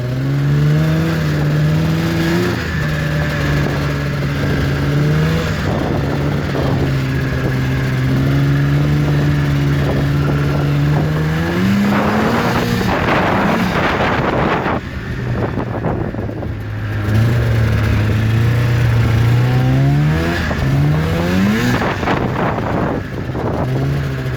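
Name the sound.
1998 Arctic Cat ZL440 snowmobile engine running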